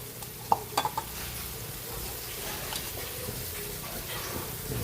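Bitter gourd (ampalaya) being sautéed in a pan, a steady soft sizzle with a few quick clinks of a utensil near the start, faint and continuous throughout.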